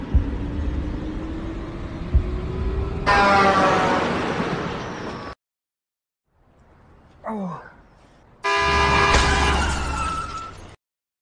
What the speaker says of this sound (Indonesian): namun tanpa diduga sebuah mobil datang melaju dengan kencang